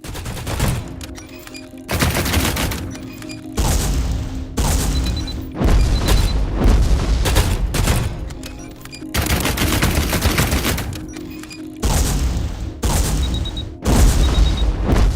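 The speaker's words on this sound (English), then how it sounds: "Switch to third mode and shoot targets down with detonating missiles." Detonating missiles explode in the sci-fi third-person shooter AI Olympius, a loud, dense run of blasts and rapid gunfire bursts in repeated waves separated by short gaps, with mechanical clanks between, and no speech.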